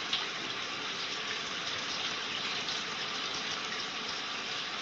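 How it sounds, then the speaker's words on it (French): A shower runs in a 1965 French comedy film scene, a steady, faint hiss of spraying water continuing unbroken for several seconds with no voices. "La fameuse scène de la douche."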